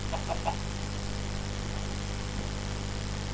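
A few quick, faint Minecraft chicken clucks near the start, then a steady hiss of static with a low hum underneath.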